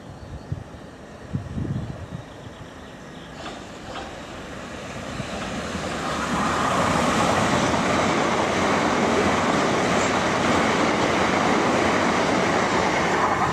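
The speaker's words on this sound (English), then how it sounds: "here comes a fast train" A fast train passes close by Shortlands railway station, its roar swelling from a distant rumble into a loud, sustained rushing wash of wheel and air noise that holds steady to the end, with a few soft knocks early on.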